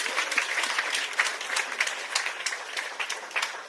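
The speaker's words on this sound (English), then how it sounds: "Let's give ourselves a big round of applause" An audience at a solar power plant launch for government hospitals claps in a dense, steady round of applause, individual hand claps popping through the moderately loud wash.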